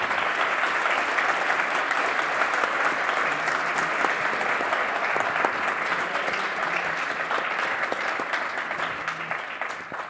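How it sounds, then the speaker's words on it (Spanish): Audience applause for a professor at a book presentation, sustained dense clapping from a full room that stays strong for about ten seconds and tapers slightly at the close. "os pido un aplauso para el profesor y amigo Eduard Cardenas"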